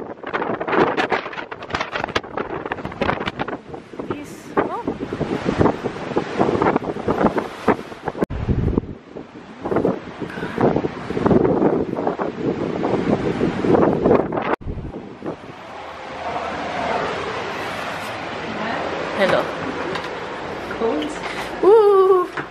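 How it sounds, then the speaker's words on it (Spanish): Strong gusts buffet the microphone outdoors in Iceland, a steady roar and rumble running throughout, with people speaking over the wind in the first half. "Windy."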